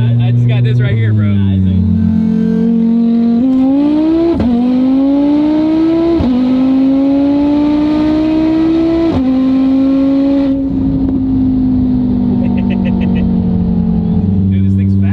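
A 1150-horsepower Audi TT RS pulls hard through third and fourth gear on the street, its engine note climbing steeply in each gear with a sharp drop at every shift, loud and close from inside the cabin, with voices over it.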